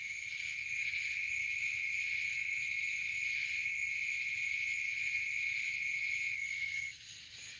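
At night a steady high insect drone from crickets and cicadas, with tree frogs somewhere in the mix, holds constant and moderately loud, then drops off near the end, with no voices.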